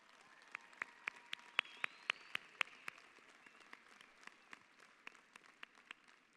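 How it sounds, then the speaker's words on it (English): Faint, distant clapping at a high school graduation ceremony, with a run of crisp, evenly spaced claps that then turn softer and more scattered over a low hall hiss. "Let's give them a round of applause."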